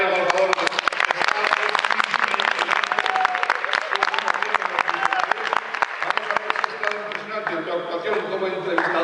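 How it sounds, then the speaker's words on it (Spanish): An audience in a concert hall applauding, dense sustained clapping from many hands that tapers off slightly toward the end, with a voice speaking briefly over it. "un aplauso para él, por favor."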